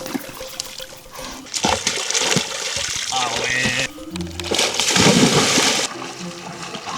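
A person plunges into icy alpine water, around 5 degrees, at a mountain bivouac among friends. Close splashes and sloshing surge in bursts while several voices shout and talk over the water.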